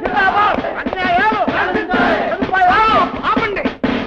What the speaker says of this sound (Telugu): ఎందుకు అరుపులు, ఏమిటా కేకలు?